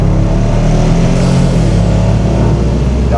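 A 2025 Toyota GR Yaris three-cylinder engine with a manual gearbox pulls hard through gear changes, a loud, close, rising drone from inside the car.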